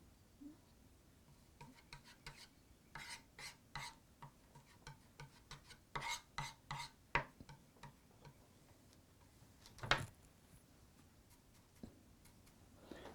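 Paint is mixed on a palette in quiet, scattered taps and short rubbing scrapes, grouped into uneven bursts with one sharper stroke near the end, close and faint with no voices.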